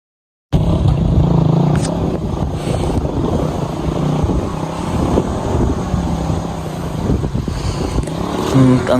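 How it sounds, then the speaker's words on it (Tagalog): A motorcycle labours up a steep mountain road, its engine droning loud and strained throughout, with no pauses, while a voice is faintly heard alongside. "Yung motor nga po yung nahihirapan eh. Nahihirapan pong umakyat."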